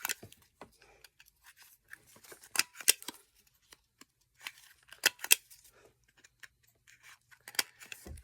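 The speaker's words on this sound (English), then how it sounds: "I'm going to go ahead and round these corners." Scissors round the corners of paper for a vintage Santa journal, with close, crisp snips in irregular bursts and quiet gaps between the cuts.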